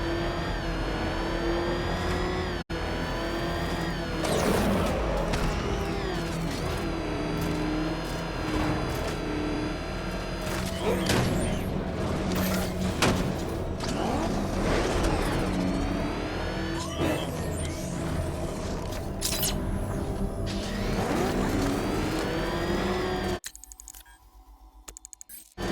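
A car engine revs and roars in the game Batman Arkham Knight, rising and falling in pitch as it accelerates close by for most of the stretch before dropping off into near quiet at the end.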